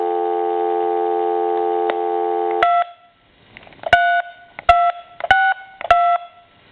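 An AT&T 5.8 MHz cordless telephone plays a steady, loud dial tone for a few seconds, then it cuts off and a series of short keypad dialing beeps follows.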